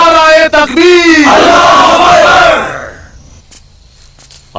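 A large crowd in a Bollywood film scene roars the Nara-e-Takbir slogan in loud unison, with drawn-out voices rising together before fading away into quiet after a few seconds.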